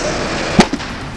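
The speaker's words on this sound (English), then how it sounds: "The blaze engulfed multiple new vehicles on the transporter, creating an intense fire accompanied by several explosions." One sharp explosion pops from burning new vehicles on a car transporter on the M2 motorway, followed by a smaller second bang over a steady crackling fire roar.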